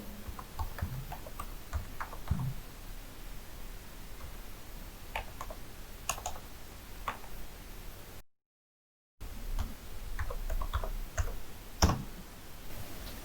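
Scattered keystrokes on a computer keyboard, faint and close, come in short irregular bursts of soft clicks against a quiet room background, with a brief total dropout midway.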